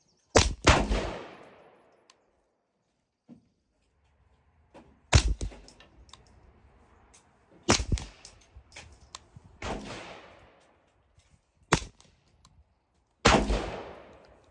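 Gunshots fired over a Garmin Xero C1-Pro chronograph, six sharp, loud cracks spaced a few seconds apart, each followed by a short decaying echo in an outdoor setting.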